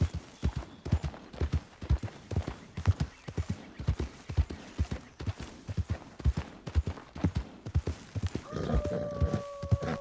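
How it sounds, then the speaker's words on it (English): In Red Dead Redemption 2, a horse being ridden sets down a steady, even run of clip-clopping hooves, close and clear, for the whole stretch, and a soft tonal chime comes in near the end. "Riding a horse around is my favorite aspect of it."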